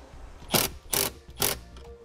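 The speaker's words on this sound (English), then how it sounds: "Reinstall the nut." Three quick ratchet bursts, each about a fifth of a second, as a 13 millimeter nut is run down over a ring terminal on a vehicle wiring stud; close and crisp, evenly spaced, with no talking.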